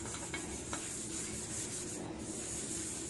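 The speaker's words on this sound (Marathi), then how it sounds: "परत एकदा ही घासून घ्यायची कढई" Scrubbing an iron kadhai with soap while cleaning it during seasoning: a steady, close abrasive rubbing that runs continuously without pause, with no voices.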